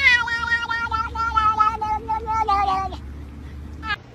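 A cat gives several close, loud meows, one long drawn-out call followed by a brief final meow, over a low steady hum in a home.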